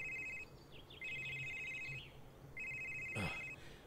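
Phone ringing in the video game SomeDay You'll Return, an electronic trilling ringtone repeating in three steady bursts over a low ambient hum, with a brief knock near the end.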